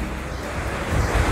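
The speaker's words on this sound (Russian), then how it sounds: "Хочу волны заснять, так как я их вижу." Sea surf washes steadily onto the beach at Jurmala in a continuous broad hiss, close and fairly loud, with some wind buffeting the microphone.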